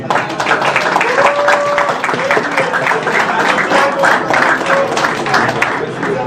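Ceremony audience applauding an honoree at an anniversary celebration of a higher-education faculty in Cap-Haïtien, a loud continuous wash of clapping with faint voices mixed in throughout.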